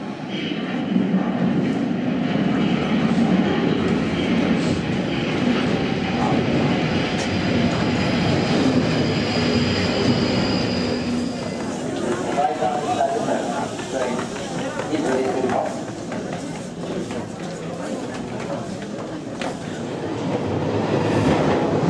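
A passenger train pulling into a London station heading for Cannon Street, a loud steady rumble of wheels on rails with rising clatter and a squeal as it slows, voices heard over it.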